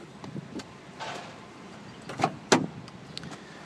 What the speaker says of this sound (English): Let me open up the back door here.